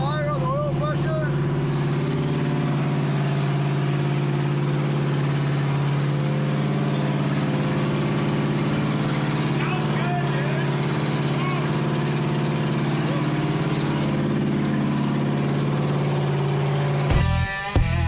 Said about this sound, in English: The motor's sounding good.